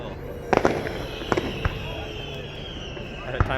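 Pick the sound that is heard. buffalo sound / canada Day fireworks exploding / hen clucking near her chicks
canada Day fireworks exploding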